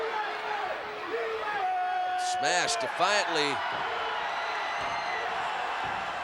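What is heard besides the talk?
wrestling crowd cheering for Hacksaw Jim Duggan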